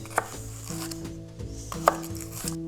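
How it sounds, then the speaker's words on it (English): A knife chops celery into strips on a cutting board. A few distinct, close wooden thunks land at uneven intervals with no talking. "Cut our celery into strips."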